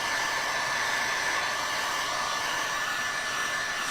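A hair dryer blows steadily on freshly painted small craft pieces, a constant loud whooshing hiss with a faint whine that never changes pitch, alone with no voices.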